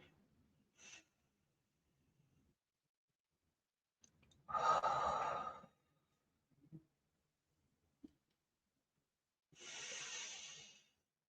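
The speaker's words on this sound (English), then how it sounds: "Breathe in through the nose, hold for 2, breathe out through the mouth." Slow, deep breaths in a quiet room, with a few soft inhales and two long, airy exhales through the mouth separated by several seconds of near silence.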